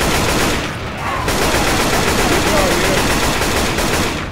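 Gunfire in the Left 4 Dead video game: loud, sustained rapid automatic fire that runs without a break, close and dense, with faint voices in the mix.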